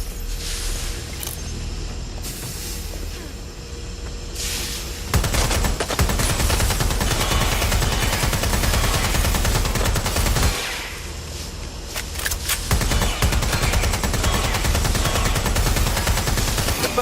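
Sustained automatic gunfire from Watch Dogs: Legion gameplay, loud and dense, with long continuous bursts broken by brief lulls.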